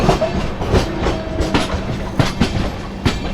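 A passenger train passes close by, its wheels beating a steady clickety-clack over the rail joints in a regular rhythm, with no talk.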